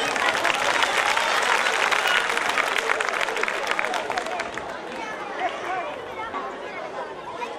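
Audience clapping at a women's rights rally program in Shahpur village, Haryana, a dense burst of applause mixed with crowd chatter that gradually thins and fades.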